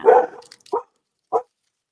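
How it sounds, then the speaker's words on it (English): Dogs barking indoors: one longer bark-like burst followed by two short, sharp barks spaced apart, fairly close and loud, with silence between. "What are we barking at?"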